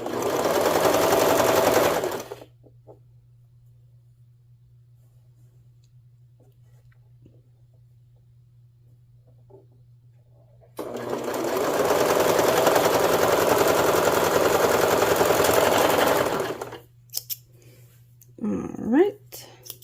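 A sewing machine stitches patchwork romper fabric in two rapid, whirring runs, one short and one about six seconds long, with a low steady hum in the pause between and a few brief handling noises at the end.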